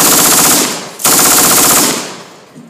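American automatic weapons at a WWII reenactment fire two loud, close bursts of rapid rat-a-tat shots separated by a brief gap, each fading with echo.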